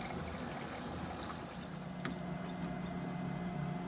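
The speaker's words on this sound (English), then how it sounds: "It's kind of pouring out right there." Water leaks and pours out from under a bathroom fixture in a TAB 400 camper trailer, a steady close rushing trickle that settles into a quieter flow partway through.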